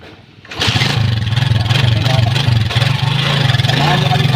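A farm engine cranks and catches on the second try, then settles into a loud, steady chugging idle close to the microphone, with no voices over it.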